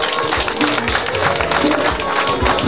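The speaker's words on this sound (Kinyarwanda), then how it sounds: "Nyamuneka amashyi" A crowd at a Rwandan engagement ceremony claps steadily, a dense, loud wash of hand claps close by, with voices mixed underneath throughout.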